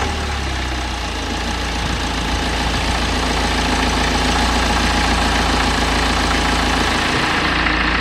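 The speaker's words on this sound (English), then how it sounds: "Let's start it up and see if it sounds any better." Car engine running steadily at idle, a continuous dense rumble with a constant low hum and broadband noise, close and loud throughout, with a faint vibrating rattle and no voices.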